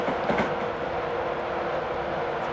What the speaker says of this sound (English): 30 to 35 is about the right speed to enter a platform in this train.